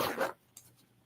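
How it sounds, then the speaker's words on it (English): Zippers closed on a bag: one quick, raspy zip up front, then brief quiet with a couple of faint clicks and small rustles as the bag is handled. "closing up all the zippers and stuff."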